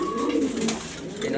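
A male grizzle pigeon sitting on eggs gives low, throaty cooing close by, a continuous murmuring call that swells and fades, with no speech over it.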